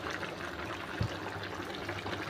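Water poured into a pan of home-style chicken curry gives a soft, steady trickling hiss at low volume, with one faint thump partway through.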